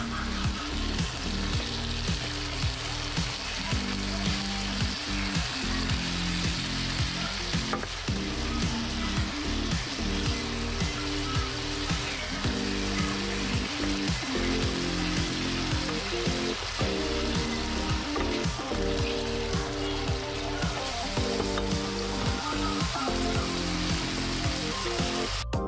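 Garlic shrimp frying in a pan, a dense continuous sizzle and crackle of hot oil running steadily throughout, with a faint rhythmic underlying pattern and no talk.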